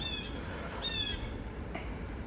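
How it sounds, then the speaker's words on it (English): A few birds call in short, bright chirps and squawks, a couple of quick bursts standing out above a steady low background rumble, with no talking. "The birds chirping on that one."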